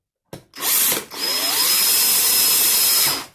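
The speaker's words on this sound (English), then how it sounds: "So I will just go ahead and drill down on this." A power drill spins up in short bursts, then bores steadily into material for a loud, sustained whine lasting about two seconds before stopping.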